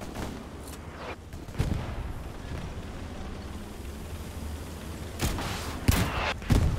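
Gunfire aimed at a tank in the video game Hell Let Loose, with a few sharp broadband shots around the middle and a cluster of louder bursts near the end over a steady low battlefield rumble.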